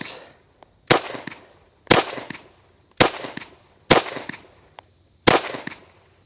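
Five loud, sharp shots from a 1911 pistol firing .45 ACP rounds outdoors, spaced roughly a second apart, each with a short ringing decay and no talking over them.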